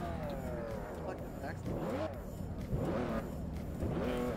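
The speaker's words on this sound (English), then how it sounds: "I can rev it without even having to hold down the brake either." A car engine in the Forza Horizon racing game revving repeatedly in rising and falling sweeps, heard under someone talking over it.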